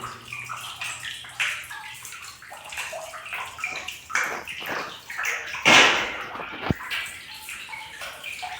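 Water from a borewell pump on a farm rushes and splashes continuously, loud and close, with sloshing surges and a brief louder gush partway through, no voices.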